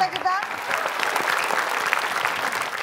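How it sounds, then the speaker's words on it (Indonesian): A crowd at a game show claps for the participants, a busy stretch of applause with a voice cutting in briefly near the start. "Kita kasih tepuk tangan dulu boleh buat peserta kita."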